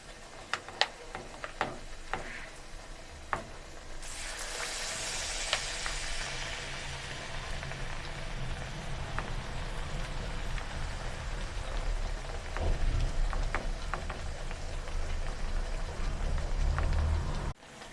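Potato slices fry in hot oil, a steady crackling sizzle that rises and fills the background, with a few sharp taps and scrapes from turning them over in the pan.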